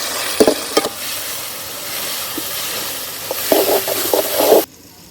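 Tomatoes fry in hot oil for a village-style quail egg fry, giving a steady hiss with scattered crackles and a few clattering stirs, ending abruptly.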